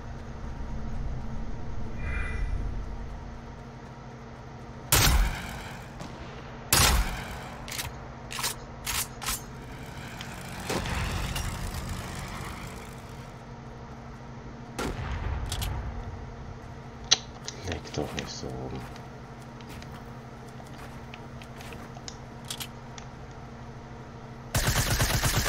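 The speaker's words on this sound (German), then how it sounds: "Ich höre Schüsse." Sparse gunshots in a game, a few sharp single cracks and short bursts scattered over a low mechanical hum, fairly close and irregular.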